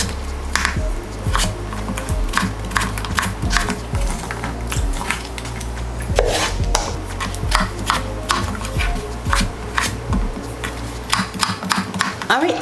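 A knife cuts potatoes on a cutting board for Texas-style potato salad. The chops are steady and fairly close, with a run of crisp, regular knocks and music playing underneath.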